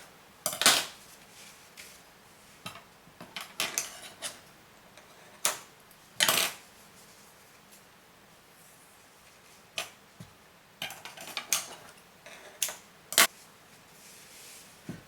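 Knife cuts through a homemade dry beef sausage into pieces, making a series of sharp, irregular clicks and taps on the board, close and clear, spaced by quiet gaps, with no talking.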